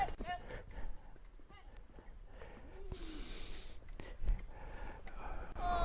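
Horse breaking into a canter during training, its hoofbeats coming as repeated soft thuds amid faint ambient noise and breathing.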